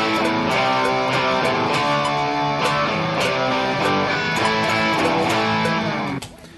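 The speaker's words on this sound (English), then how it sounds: "what I did here is just recorded the root notes instead of whole power chords." Distorted electric guitar playing single root notes rather than full power chords, a steady run of sustained, dense notes alone with no talking, ending abruptly near the close.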